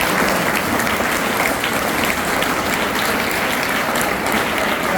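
An audience at a cyber crime awareness programme gives sustained, loud applause for a police constable, a thick wall of clapping with no pauses.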